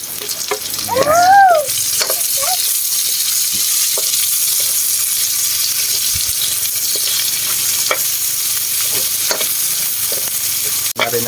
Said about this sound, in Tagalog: Bawang muna. Lagay na rin natin ang sibuyas.